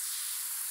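A battery foam sprayer fitted with a wide fan nozzle sprays wheel and tire cleaner in a single short, steady hiss, close and even throughout.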